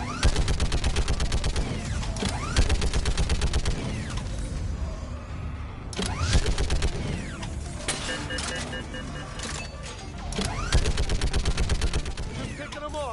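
Sustained heavy weapon fire from a big gun in the sci-fi shooter Mass Effect 3, in rapid repeated bursts with mechanical whirring and creaking, loud and continuous through most of the stretch.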